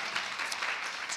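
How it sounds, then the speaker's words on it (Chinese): A church congregation at a Sunday worship service claps for four brothers called up on stage, a short, dense burst of applause that holds at an even level throughout. "我们给他们四位一位掌声，好不好？"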